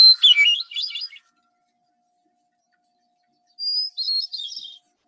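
High-pitched, flute-like bird call sounds twice, each a clear warbling phrase about a second long, separated by a few seconds of silence, loud and close.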